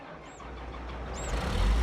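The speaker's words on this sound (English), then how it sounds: "It's going to start the engine, and then I'm going to start driving forward." A tractor engine in Farming Simulator 22 starts up, low rumble building steadily and growing louder toward the end, with faint high whines over a steady noise bed.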